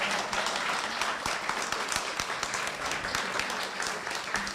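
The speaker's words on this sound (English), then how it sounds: "Let's give Chadra another round of applause." Audience applause at a public talk on remembering the transatlantic slave trade, steady dense clapping from a sizeable crowd that holds at an even level throughout.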